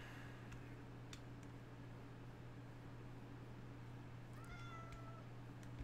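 A cat meows in a Minecraft game: one short, thin meow near the end over a faint, steady hum, with a few soft ticks earlier and no talk.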